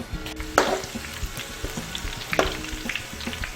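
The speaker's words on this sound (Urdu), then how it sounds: "یہ کشمش میں نے ڈال دی ہے تیل میں، اس کو ہم فرائی کر کے نکال لیں گے۔" Raisins frying in oil for kabuli pulao, a steady close sizzle with a few sharper crackles and stirring knocks breaking through.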